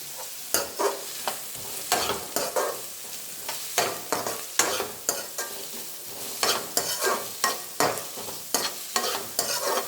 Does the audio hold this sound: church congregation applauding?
no